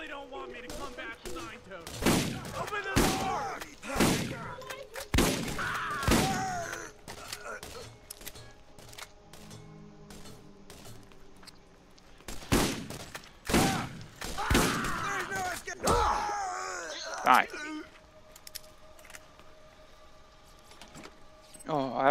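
Pistol fire from the character Brick in the video game Borderlands 1, Pandora: a string of sharp, separated shots in irregular bursts between quieter stretches, with talking in between.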